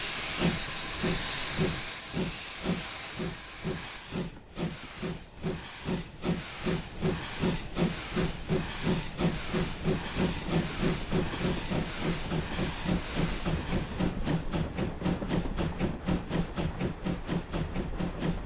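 A GWR Dean Single 4-2-2 steam locomotive in Train Simulator Classic chuffs in an even beat over a steady steam hiss, the exhaust beats growing quicker and tighter as the engine picks up speed.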